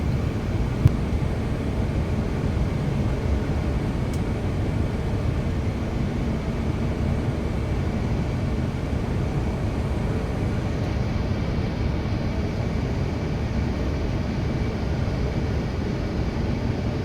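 Steady broadband roar of an airliner cabin during descent toward New Orleans over Lake Pontchartrain, a constant engine and airflow drone with no break in level, alone without talk.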